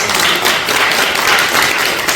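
Congregation at a Korean prayer-retreat worship service clapping their hands together, a dense steady wash of many palms for a couple of seconds, loud and close with no voices over it.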